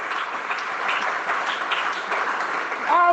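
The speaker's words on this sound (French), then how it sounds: "Applaudissez le Seigneur de gloire." Congregation applauding during a church service, a steady wash of clapping that holds throughout, with voices mixed underneath and a short tonal sound at the very end.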